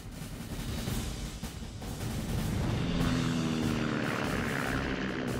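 An F4U Corsair naval fighter with a huge 13-foot propeller flies past, its steady propeller engine drone holding loud and continuous throughout with no talk.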